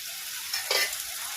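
Onion sautéing with ginger, garlic and green chili paste gives a brief, close sizzle, with a short louder burst of stirring in the middle.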